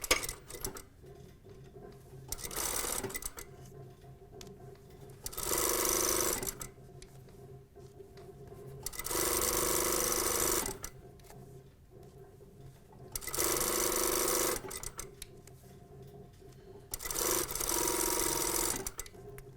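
A sewing machine stitches a 1/4 inch seam on a box top toile, running in four long, loud bursts separated by quieter pauses, with no talk over it.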